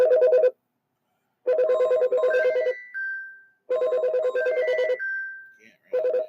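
A mobile phone ringtone plays in repeated bursts, a melodic electronic tone that rings, pauses and rings again, fairly loud and alone without talk.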